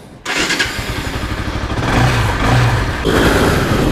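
A Bajaj Pulsar NS200 motorcycle engine with a freshly replaced clutch wire starts up abruptly and settles into a loud, close, chugging idle, with a brief rev near the end and no voices.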